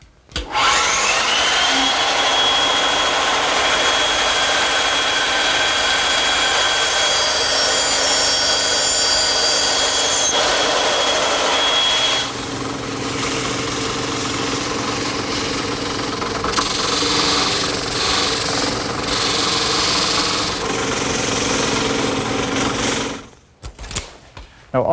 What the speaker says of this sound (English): I'll just use my bandsaw.